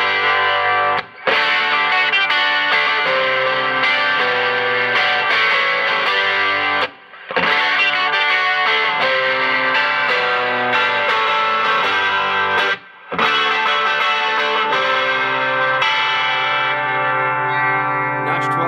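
Bright, shimmering 12-string Nash offset Telecaster electric guitar strummed continuously with heavy effects and echo, with a couple of brief pauses.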